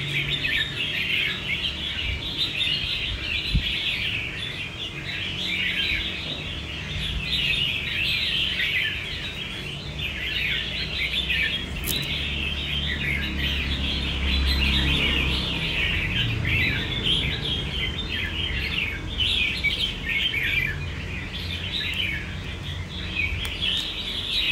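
A caged red-whiskered bulbul calls in a steady stream of chirps and whistles, close and clear over a dense background chorus of other birds.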